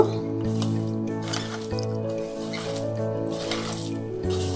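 Hands mix and squeeze vegetable pakora batter in a bowl, giving wet squishing sounds. A steady background hum sits beneath them.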